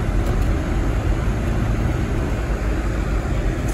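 A car heater fan blows at high speed to melt iced windshield wipers during a snowfall near Big Bear Lake, California, a dense steady rushing roar filling the cabin without pause, loud and close with no talking.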